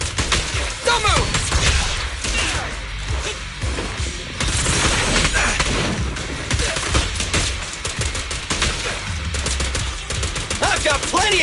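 Rapid bursts of gunfire crackle loudly and almost continuously, dense and close, with a voice faintly mixed in.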